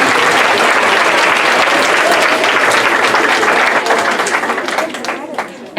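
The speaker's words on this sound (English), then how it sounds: "Let's give them another round of applause" Loud, dense applause from a school audience honoring nominated students at an awards ceremony, sustained and close before tapering off near the end.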